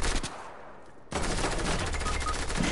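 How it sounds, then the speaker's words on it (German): Sniper rifle fire in an online shooter video game: a sharp shot at the start, then a louder crack about a second in that trails into sustained crackling gunfire, loud and close with no talk. "Sniper-Schuss"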